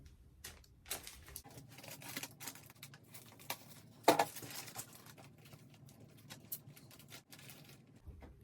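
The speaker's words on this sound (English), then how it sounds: "I'm just going to use one of these sandwich bags and cut it." Scissors snip and crinkle through a thin plastic sandwich bag indoors, a string of quiet rustles and soft crackles with one sharper cut midway, close and faint with no talking.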